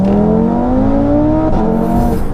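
Turbocharged 740bhp Audi RS3 accelerating hard, its engine note rising steadily toward the red line, loud and close with a brief shift-like dip near the end.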